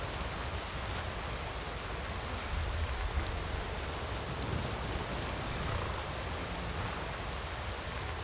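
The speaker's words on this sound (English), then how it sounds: "I swear it rains like this every time I go to Richmond." Heavy rain pours steadily in the Skyrim video game, a dense continuous hiss of drops on surfaces with no pauses and no talk.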